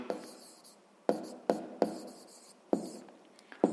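Handwriting with a pen on paper while working a sixth-grade math exercise, scratchy strokes coming in short repeated bursts, close and fairly quiet, with no talking.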